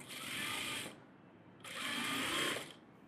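Sewing machine stitching a net model blouse, two close bursts of fast steady whirring about a second each, with a short quiet pause between them.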